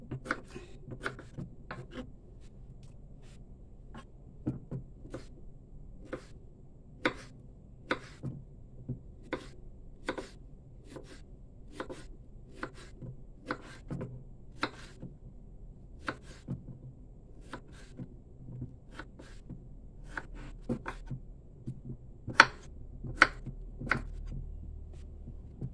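Repeated crisp knife cuts through firm santol fruit, dozens of sharp slicing taps at an irregular, unhurried pace, close and quiet against a faint background hum.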